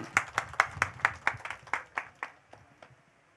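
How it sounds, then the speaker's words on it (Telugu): A crowd claps together to welcome Sharmila at a rally, a run of sharp, evenly spaced claps at a steady beat that are loud at first and then thin out and fade toward the end. "షర్మిలక్కకు గట్టిగా చప్పట్లతో స్వాగతం తెలియజేద్దాం"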